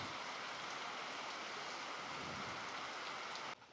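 Heavy rain pours near a Durga temple in a steady, dense hiss that holds at an even loudness for several seconds, then drops off abruptly at the very end.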